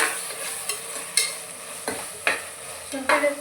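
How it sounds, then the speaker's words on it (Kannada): Ginger garlic paste frying in a pan for chicken biryani, stirred in a few distinct scraping strokes over a soft, close sizzle. "ಶುಂಠಿ ಬೆಳ್ಳುಳ್ಳಿ ಪೇಸ್ಟ್ ಎಲ್ಲ ಹಸಿ ವಾಸನೆ ಎಲ್ಲ ಹೋಗಿ ಘಮ ಬರುತ್ತೆ, ಅಲ್ಲಿವರೆಗೂ ಫ್ರೈ ಮಾಡ್ಕೋಬೇಕು"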